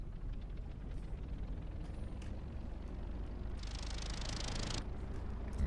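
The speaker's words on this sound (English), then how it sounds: "you can see that our motor has started up. We can give it a little bit more throttle." A Spitfire LF Mk IX engine runs in the DCS flight game with a steady, low, droning rumble. A brighter hissing rush swells in over the drone for about a second partway through.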